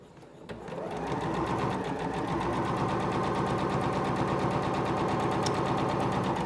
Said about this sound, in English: we'll push the pedal and just sew right along this edge